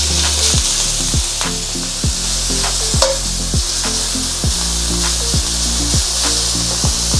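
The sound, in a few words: bacon frying in an oiled wok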